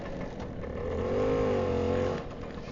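A 1962 Lambretta Li 150 Series 3 scooter engine pulls under throttle on the road, its buzzing tone rising and holding steady before easing off.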